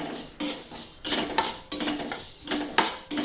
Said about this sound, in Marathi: आता आपण धने भाजून घेणार आहोत